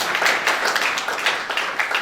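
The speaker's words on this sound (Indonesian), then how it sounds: "Yang setuju tepuk tangan bagi anak itu." A church congregation claps together during a sermon, a dense, steady patter of many hands filling the room at moderate volume.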